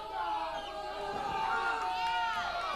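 Packed bar crowd at an independent wrestling show, a steady dense roar of chatter and cheering that holds throughout, with commentators talking over it.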